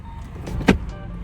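A car's electric window motor hums close by in a brief strained whir that ends in a clunk, as the window fails to go up; no voices.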